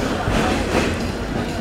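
A broad-gauge express train rolls into Jessore Junction railway station, a steady loud rumble of wheels and carriages close by, with a voice speaking over it.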